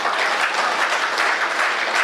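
Audience applauding at a Hindi kavi sammelan poetry recital, a steady, dense wash of clapping that holds evenly for the whole two seconds with no voices over it.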